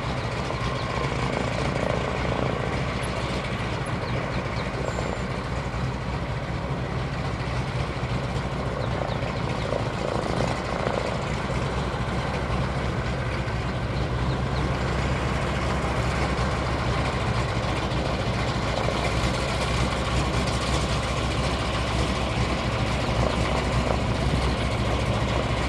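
A floatplane workhorse flying toward Elbow Lake drones with a loud, steady engine roar that holds constant and close throughout, with no talking over it.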